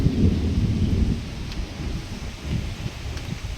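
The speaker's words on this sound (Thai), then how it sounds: "โอ้ลม มาแรง มาถึง แล้วครับ มาแล้วฝน" Strong wind roars in a low, steady rush with gusts, and a faint wash of rain hints at a storm moving in.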